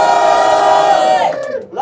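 A crowd at a dance battle in Mâcon roars with loud cheering and shouting, a sustained close wall of voices that fades toward the end.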